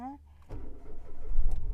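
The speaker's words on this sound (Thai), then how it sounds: "เหยียบเบรกนะคะ เปิดกุญแจได้เลยนะคะ" A 2017 Mitsubishi Mirage GLX with a 1.2-litre engine and automatic gearbox starting up, a short crank followed by a low, steady idle rumble, with someone talking over it.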